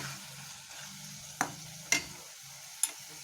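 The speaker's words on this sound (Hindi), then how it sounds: "अब हम ये जो बॉईल करे हुए अंडे हैं अब हम इसमें डालेंगे और अच्छी तरह से इसमें मिक्स करेंगे" Boiled eggs cook in a quietly sizzling masala for anda chingari, with a soft steady fry and three distinct spoon clinks against the pan, spaced apart.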